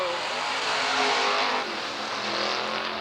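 Race cars roar past on the final laps at Southern Oregon Speedway, a loud, sustained engine drone that swells and shifts in pitch as the pack passes and recedes, with no talk.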